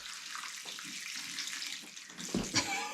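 Water pours from a 2-inch water line onto a floor, a continuous splashing rush at moderate level that swells with a brief louder gush near the end, with no voices.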